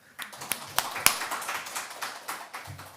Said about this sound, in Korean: 정답. 박수.